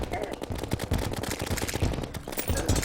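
Rapid, dense gunfire from a pirate ship in the Terraria video game, a rattling stream of shots with cannon-like thumps, continuous and fairly loud over nearly three seconds.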